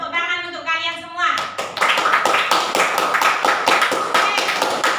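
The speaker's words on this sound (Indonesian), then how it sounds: "Tepuk tangan untuk kalian semua" Students in a mathematics classroom burst into quick, rhythmic clapping together after a brief voice, the claps loud, close and evenly spaced.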